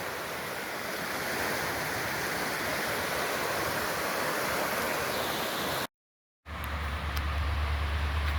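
Fast-running water of the Tuckasegee River, a bigger trout river near Franklin, North Carolina, roars as a steady broadband rush throughout, cut by a brief gap of silence before resuming with added low rumble.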